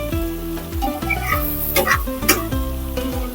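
Masala for egg shami frying and sizzling in a pan while being stirred, with steady loud crackle and repeated scraping strokes of the spoon throughout, no voices.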